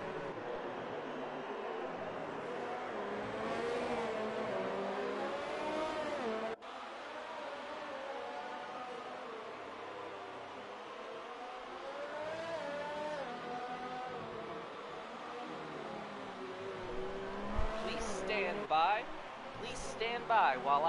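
F1 race cars lap the Mexican Grand Prix track in a racing video game, engines droning and rising and falling in pitch at moderate distance, mostly under continuous commentary.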